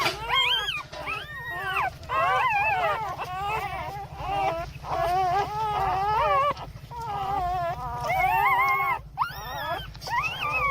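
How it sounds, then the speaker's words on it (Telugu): Newborn puppies whimper and squeal in a litter, a dense run of high, wavering cries that overlap almost continuously, close and fairly loud, with brief gaps between bursts and a low steady hum underneath. "కుక్క పిల్ల అయితే ఇట్లా వేస్తున్నాయి చూడండి"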